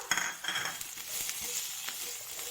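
Green chillies sizzle with ginger-garlic paste in a pan for a country-style mushroom roast, a close, bright crackle broken by the clink and scrape of a spoon stirring.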